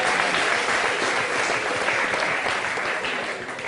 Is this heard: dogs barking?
no